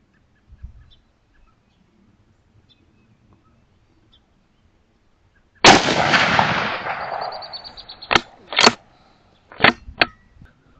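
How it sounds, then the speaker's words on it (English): Rifle fitted with a DNT Zulus V2 scope and a heavy suppressor fires several shots outdoors: one long booming report with a trailing echo, then four sharper cracks spaced about a second apart, each standing alone in the quiet. "So we're locked and reloaded and ready to fire."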